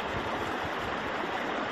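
River water flows steadily around someone sitting mid-river, with a continuous broadband rush and no other sounds.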